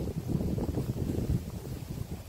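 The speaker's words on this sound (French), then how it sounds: "Alors j'attends un peu que le vent cesse" Wind gusting outdoors, a steady low buffeting rumble against the microphone that holds at moderate level throughout, with no voices.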